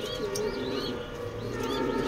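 Four racing pigeons cooing softly in a loft, low throaty coos repeating under steady background noise and faint chirps, with no voice.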